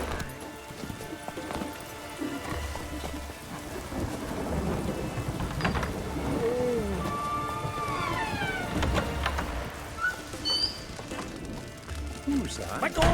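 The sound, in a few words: rain and thunder in The Witcher 3 video game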